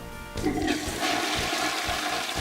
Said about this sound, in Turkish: Klozetin kapağını kapatıyoruz ve sifona basıyoruz.